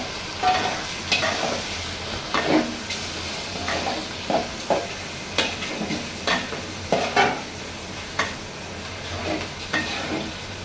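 Rice is stirred and fried in a hot pan while preparing bouya, with repeated scraping strokes of a spoon against the pan over a steady sizzle, close and fairly loud.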